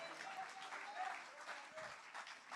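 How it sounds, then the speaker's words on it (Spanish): A church congregation applauds during a sermon, a steady wash of clapping that holds at an even level throughout, with some voices mixed into the crowd. "Dale un fuerte aplauso al Señor."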